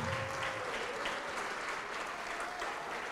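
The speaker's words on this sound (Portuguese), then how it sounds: "Vamos aplaudir mais." A church congregation applauding during a televised service, steady sustained clapping from many hands heard at moderate distance, with no talk over it.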